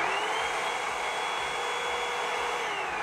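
A Revlon hot air brush on its cold setting, blowing a steady, loud, close whirring rush of air with a constant motor hum and no pauses.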